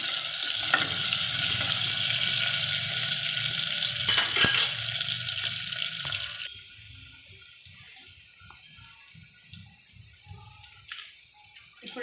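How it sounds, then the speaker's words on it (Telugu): Chopped onion sizzles loudly in hot oil with cumin and mustard seeds in a pan, stirred with scraping clatter, then the frying quiets to a softer crackle with occasional utensil knocks. "ఉల్లిగడ్డ వేసేసి బాగా కలపాలి."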